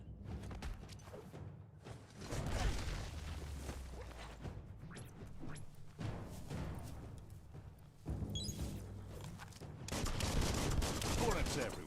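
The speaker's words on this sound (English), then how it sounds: "Bullets everywhere." Gunfire in the action game Biomutant, dense bursts of rapid shots and fusillades in clustered volleys with whooshing impacts between them, loud and close.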